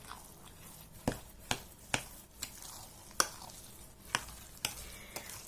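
Sugar and milk mixture for a baked farmer's cheese casserole stirred in a bowl, with soft scraping and a series of sharp clinks as the utensil taps the sides at irregular intervals.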